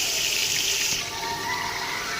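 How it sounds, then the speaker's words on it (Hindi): Water poured into a pan of chilli and spices while cooking aloo gosht, a close, steady splashing pour that eases off halfway through, with no talking. "तो थोड़ा सा इसमें डालेंगे पानी ताकि हमारे सारे मिर्च मसाले अच्छे से गल जाएं।"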